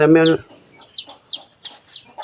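A short loud vocal burst opens, then a mother hen clucks to call her chicks in a steady series of soft, close calls, roughly five or six evenly spaced clucks.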